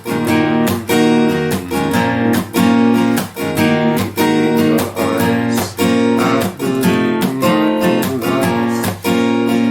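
Rhythmic strummed guitar chords with sharp percussive slaps, moving from C over G through a quick G transition chord, loud and close with no voices.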